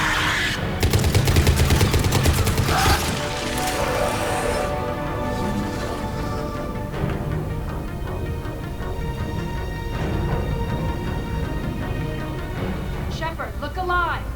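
Gunfire in Mass Effect, a sci-fi shooter, crackles in a dense burst of shots up front that thins into a steadier, mixed battle bed under music and effects, with a combat voice calling out over it.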